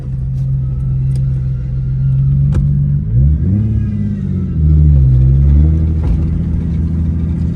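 A G37 car engine revs and roars steadily while doing a figure eight, pitch rising and falling through several surges as the vehicle turns, loud and close with no talking.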